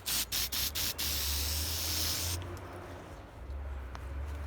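Spray paint hissing onto a weird fungus outdoors, a steady broad hiss with a few short sputtering bursts at the start, then cutting off and leaving quieter background noise.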